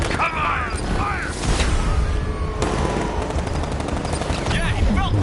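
Batmobile cannons fire in a Batman video game in loud, rapid bursts of machine-gun-style shots and crashing impacts, with game voices shouting over the clatter.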